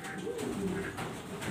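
Pigeons, including a nesting hen sitting on eggs, give soft low cooing phrases, faint and continuous, with light background noise.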